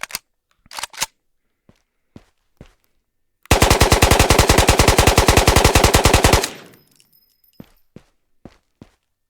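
Sustained full-auto burst from an M4 rifle in the video game Ghosts of Tabor, about three seconds of rapid, evenly spaced loud shots, framed by sparse clicks and footsteps before and after.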